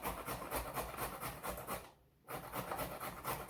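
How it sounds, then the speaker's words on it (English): Carrots are rubbed against a grate-and-measure grater in quick, regular rasping strokes, a soft, close scraping rhythm that breaks for a brief pause before resuming. "The grate and measure allows me to measure what I'm grating while I'm grating it."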